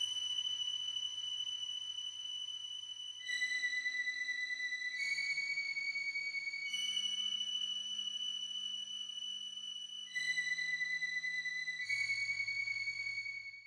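Key strings preset in FL Studio playing a simple melody of sustained, bright synthetic string chords that change every couple of seconds, clean and alone with no talking.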